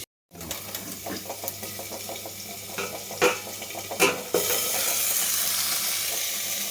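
Dry ginger spice powder being mixed for stuffed ivy gourd, a soft scraping and stirring texture with faint clicks, then a steady hiss like running water or sizzling near the end.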